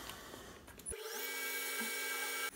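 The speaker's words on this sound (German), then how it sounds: "Ich habe jetzt hier einen 4 mm Bohrer." Close by, a 350FU mini wood lathe drives a 4 mm drill bit, a shrill steady whine that starts abruptly after a second of rustling and holds to the end.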